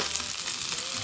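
Food sizzles in a frying pan on a home stove, a brief, steady crackling fry heard close up.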